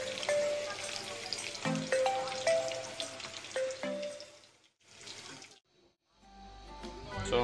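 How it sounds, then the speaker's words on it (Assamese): Fish pieces for an Assamese fish curry fry in a pan with a steady broadband sizzle, interrupted by a few clanks and short quieter gaps as pieces are moved, close and fairly loud. "আমাৰ মাছটোৱে প্ৰায় ফ্ৰাই হৈ গৈছে"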